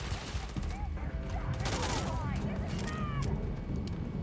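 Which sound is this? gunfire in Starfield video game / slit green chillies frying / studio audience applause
gunfire in Starfield video game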